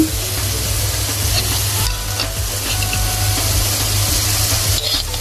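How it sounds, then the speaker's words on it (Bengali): Katla fish pieces fry in a cooked-down spice paste, giving a steady, loud, close sizzle with scraping stirs throughout and no talking. "মাছটা মশলাটা কষানো হয়ে গেছে এখন আমি কাতলা মাছগুলো দিয়ে দিচ্ছি"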